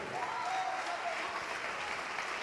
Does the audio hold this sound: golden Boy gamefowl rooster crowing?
no